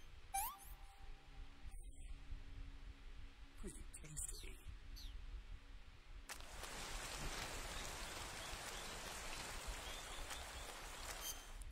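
Steady rain hisses in Metal Gear Solid 3: Snake Eater, swelling louder after a few quieter seconds filled with small squeaks and game sounds.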